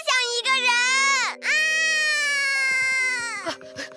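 A girl screams in a long, high, wavering cry that rises and falls, breaking briefly before continuing, loud and close over steady background music.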